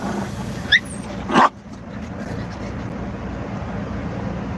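Puppies give a thin high whimper and then a brief sharp yip close by, over a steady hiss of room noise, after which the sound settles into quiet background.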